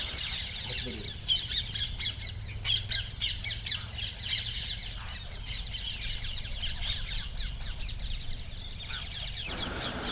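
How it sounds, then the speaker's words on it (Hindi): Thousands of parrots gather to feed on grain at a cremation ground in Chhapar. A dense, continuous chorus of shrill squawks and chatter rises in loud overlapping bursts over steady outdoor noise. "हज़ारों तोते एक साथ छापर के इस मुक्ति धाम में आप देख रहे हैं दाना चुगने के लिए पहुँचे हैं और बहुत सुंदर कलरव इनका सुनाई दे रहा है।"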